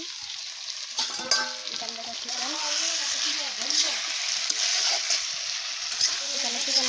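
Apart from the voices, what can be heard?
chicken being sautéed (kosha) in a pan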